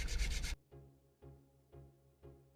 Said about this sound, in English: it's a little bit awkward to sand right now. But I'm doing it anyway.